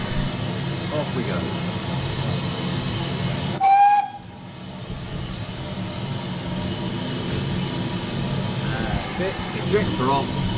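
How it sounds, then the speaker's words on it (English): A steam locomotive on a heritage railway line gives one short, loud whistle blast before departing, sharp and close, over the steady hiss and rumble of the engine on the footplate. "Give a whistle. Off we go."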